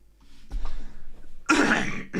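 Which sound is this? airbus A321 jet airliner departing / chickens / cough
cough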